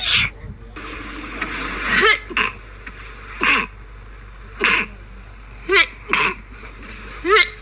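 Repeated sneezes from a person, sharp bursts arriving one after another at irregular intervals over a low steady hum, with someone responding between them.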